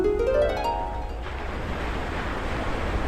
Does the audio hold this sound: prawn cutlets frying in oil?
no